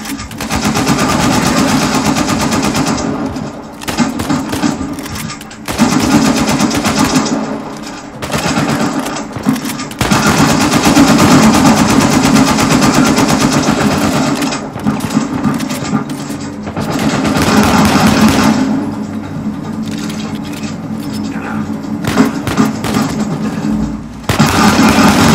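Machine gun fire rattles in the Uncharted 4 video game in long, dense, loud bursts that continue almost without a break, broken by a few brief pauses, with no speech over it.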